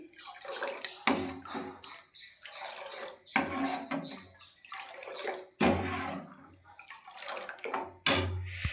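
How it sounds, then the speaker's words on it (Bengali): Cold water is poured into a pot of boiled milk in several separate pours, each a close, splashy gush with dripping trailing off between them. "দুধটাকে একটু ঠান্ডা করার জন্য এর মধ্যে ঠান্ডা জল একটু মিশিয়ে দিলাম।"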